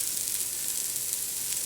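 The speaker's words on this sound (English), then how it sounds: "it's sizzling pretty good" Steady, close sizzling hiss of vegetables frying in a hot pot for chicken noodle soup, continuous and fairly quiet, with no voices.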